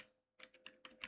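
A few quick keystrokes tap on a computer keyboard, faint and close, in short clustered bursts after a brief pause.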